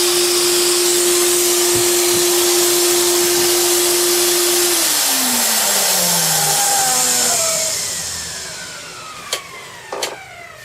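A homemade dust collector driven by a vacuum, after it sucked in a red plastic bucket, roars loud and steady, then spins down with a falling whine and fades, ending with a couple of sharp knocks.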